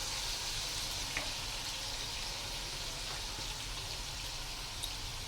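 Whole garam masala frying in a pot gives off a steady, even sizzle with soft popping crackles scattered throughout, moderately loud and uninterrupted.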